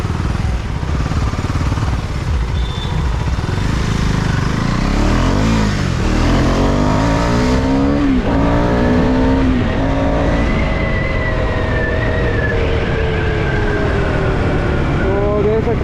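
A Husqvarna Svartpilen 410 single-cylinder motorcycle pulls away from a stop under full throttle, its engine note rising and falling through several gear changes, loud and close, with road and wind noise throughout.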